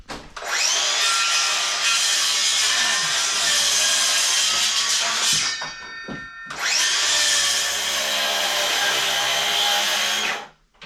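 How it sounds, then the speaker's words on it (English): Wood being sawn for floor joists while rebuilding a 185-year-old log cabin: a loud, steady power-saw cut runs about five seconds, pauses briefly, then a second long cut follows, close by with no talking. "Now, he's out there cutting, so that's what we're working on now."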